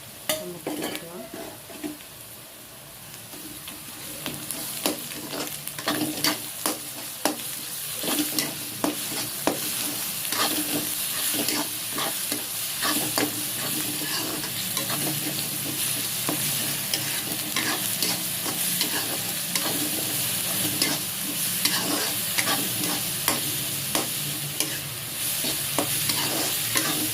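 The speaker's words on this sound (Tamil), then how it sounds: "வெங்காயம் கொஞ்சம் ப்ரௌனிஷ் ஆகும்போது இஞ்சி பூண்டு பேஸ்ட்டு நம்ம போட்டுக்கலாம்" Ginger garlic paste fries with browned onions for mutton fry, a loud steady sizzle punctuated by rapid repeated spatula scrapes against the pan, with no voices.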